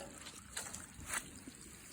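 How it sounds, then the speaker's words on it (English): Water trickles faintly and continuously from a pipe into a pond at a campsite, with a couple of soft splashy surges. "Now I just hook this pipe back up and get water flowing back into the pond."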